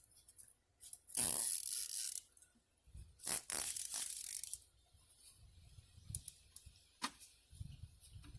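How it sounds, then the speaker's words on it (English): A zip tie being pulled tight while fitting a Forge diverter valve, close, bursts of ratcheting zips and clicks separated by quiet gaps, with handling knocks. "We'll just zip tie this on here."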